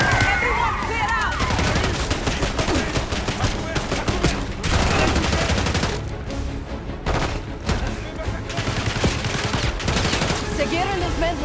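Heavy gunfire in the Black Ops 6 video game: rapid bursts and sharp cracks of automatic weapons in repeated volleys, loud and close, with shouting voices mixed in among the shots.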